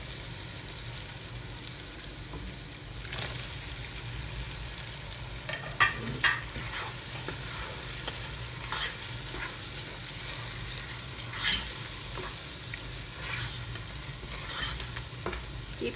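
Prawns frying with roughly powdered dry coriander and spices in a pan over high flame, a steady close sizzle with intermittent scraping and stirring strokes throughout.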